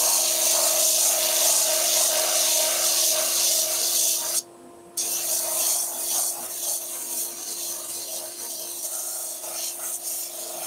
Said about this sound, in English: So I'm just going to start by sanding a bulk of that top layer away.